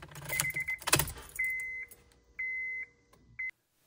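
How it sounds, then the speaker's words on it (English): Ignition key turned on in a Honda: keys jangle and click in the lock, then a dashboard chime sounds three times in steady, evenly spaced tones, close and clear, and stops abruptly. "Turn on the key."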